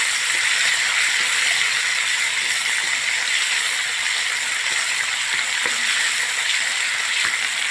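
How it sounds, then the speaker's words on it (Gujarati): Tomato, peanuts, and green and dried chillies fry in oil for moraiya khichdi, giving a loud, steady, even sizzle with a few faint stirring ticks. "ટામેટું પેચાવા દઈશું આપણે."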